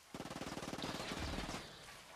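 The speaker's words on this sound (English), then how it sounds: "Gunfire. Target eliminated." A rapid burst of automatic gunfire in the video game Ghost Recon Breakpoint, about a dozen quick even shots followed by a rumbling blast that fades out.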